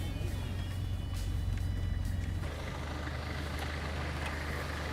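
Black cab taxi engine in a video game, a low rumbling idle that shifts as the vehicle pulls away slowly, steady and fairly close with no talking.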